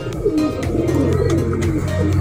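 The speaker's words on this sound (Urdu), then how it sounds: "ماشاء اللہ سے کبوتر آپ دیکھ سکتے ہیں بانگے کبوتر" Bange pigeons coo in low, throaty, repeated calls close by, overlapping steadily with faint rustling and chirps in the background.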